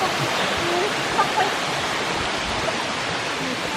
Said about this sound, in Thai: อันนี้เป็นน้ำตกชั้นที่สองใช่ไหม